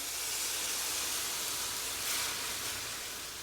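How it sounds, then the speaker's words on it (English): A steady, loud hiss of steam rises as vegetables steam in a hot pan with a little added water, sizzling continuously with a brief surge partway through. "And this is gonna steam and soften it."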